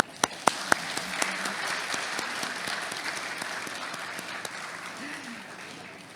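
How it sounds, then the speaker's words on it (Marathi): An audience at a Guru Purnima poster launch applauds in a steady, moderate patter of many hands after a few sharp opening claps, with a voice briefly heard over it. "त्यामुळे आपल्या सगळ्यांसाठी टाळ्या"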